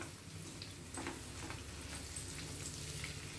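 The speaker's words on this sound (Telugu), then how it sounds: "ఇప్పుడు ఈ ఎగ్స్ ని ఇలా లైట్ గా కలిపేసేసుకుందాము" Eggs stirred and frying in a pan, a soft steady sizzle with a few light scrapes and taps, fairly quiet and close beneath a low background hum.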